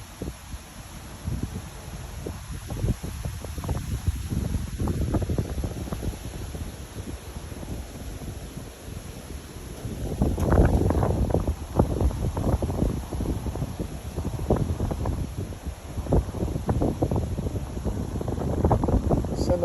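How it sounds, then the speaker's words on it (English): Wind gusting outdoors under clouds in Bolivar, Missouri, a faint low rumble and buffeting that grows louder and rougher in the second half, with no talking. "It's windy now."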